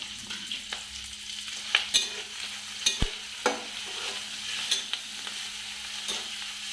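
Fish belly and roe frying in a pan with salt and turmeric, a steady soft sizzle broken by occasional clinks and scrapes of stirring, close and without talk.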